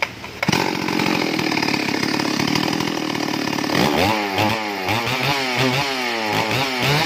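Stihl MS381 chainsaw engine running loud and close, first a steady high rev, then revving up and down repeatedly with rising and falling whine over a rough two-stroke rattle; no talking.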